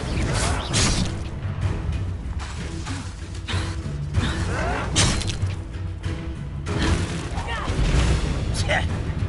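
Confringo blasting spell in Hogwarts Legacy, a series of sharp booming explosions and crackling bursts in quick succession amid combat noise, with voices calling out over the action.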